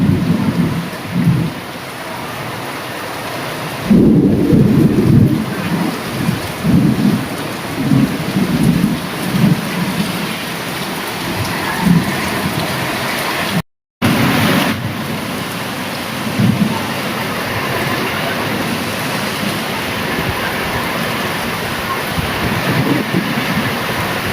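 Heavy rain pouring down in a thunderstorm at Tallapudi, a dense continuous roar of rain with deep rolling thunder swelling and fading repeatedly, a brief dropout midway, no talk.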